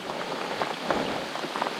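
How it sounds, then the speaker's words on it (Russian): Steady rain falls outdoors during a July pike-fishing trip on the Moksha river in Mordovia, a continuous soft hiss of drops with no voices. "Дождь не прекращается."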